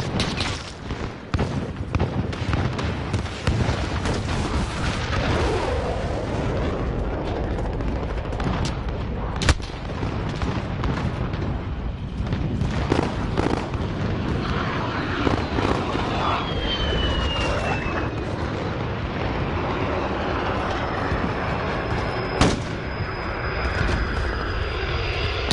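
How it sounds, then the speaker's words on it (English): An enemy VTOL jet in Modern Warfare roars overhead while its guns strafe the area, a dense continuous rumble of engine noise and rapid gunfire with occasional louder bangs, loud and sustained throughout. "It was the VTOL. I thought a player was hitting me non-stop."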